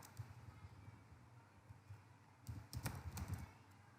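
Quiet typing on a computer keyboard while writing CSS code: soft, close key clicks that come in scattered bursts and grow into a quicker flurry near the end.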